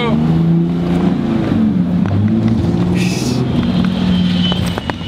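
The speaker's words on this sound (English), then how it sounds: "we're going for a quick little drive in a late 2007 Cummins diesel truck" Late 2007 Cummins diesel Dodge truck pulling away, its engine droning and rising in pitch as it revs through the run, loud and close inside the cab.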